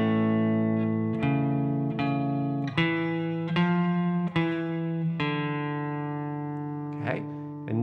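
A guitar plays a low, plucked bass line from a song, including an open D, single notes picked one after another at a moderate pace, ringing clearly with no talking.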